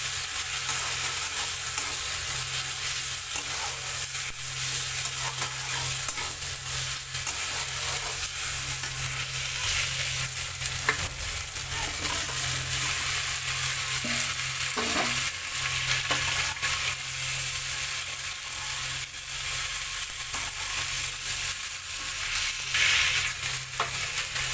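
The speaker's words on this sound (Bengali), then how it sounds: "এখন একটু গোবিন্দভোগ চালটা ভেজে দেবো" Gobindobhog rice fries with spices in oil, a dense, loud, continuous sizzle with soft stirring scrapes running throughout, close up and with no voices.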